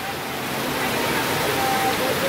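At the Yavat weekly market, a downpour gives off a constant broadband roar that grows slightly heavier, with a faint voice mixed in.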